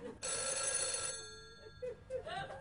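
A telephone bell rings loudly and close in one long metallic burst, then rings again in shorter broken bursts after a pause.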